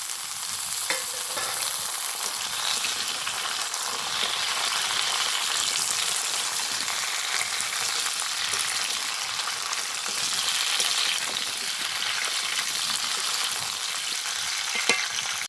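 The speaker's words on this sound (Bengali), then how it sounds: "এবার এর উপরে পটলটাও দিয়ে দেবো, একসাথে দুটোই ভাজা হয়ে যাবে।" Continuous close frying sizzle of pointed gourd and potatoes in a pan, a steady crackling hiss with faint occasional stirring, no voices.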